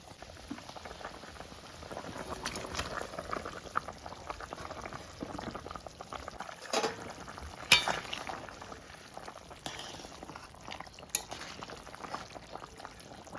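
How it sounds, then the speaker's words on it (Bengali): Fish curry gravy with fried snakehead fish at a rolling boil in a village kitchen, a steady low bubbling and popping with occasional sharper spatters, heard close and fairly faint. "ঝোল ফুটে গেছে, এবার আমি ভেজে রাখা মাছগুলো এর মধ্যে দিয়ে দেব।"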